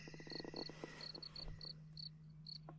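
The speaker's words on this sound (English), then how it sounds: "Yo, the crickets stopped." Crickets chirp in a dark forest at night beside a trail, a faint, steady stream of short repeated pulses with a low hum beneath.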